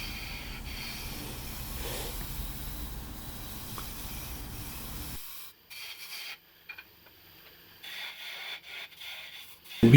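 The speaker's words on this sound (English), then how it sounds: "I'm going to go ahead and run through all the grits, get this all sanded up" Sanding a live-edge maple burl bowl on a lathe gives a steady close rubbing hiss for about five seconds, then stops and becomes quieter intermittent brushing and scuffing strokes.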